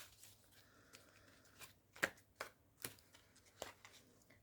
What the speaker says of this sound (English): let's give it a few shuffles